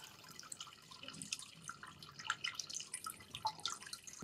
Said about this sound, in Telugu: బట్ ఆ వాటర్ సౌండ్ కూడా మనం అబ్జర్వ్ చేసి నేను మీకు వినిపిస్తాను చూడండి.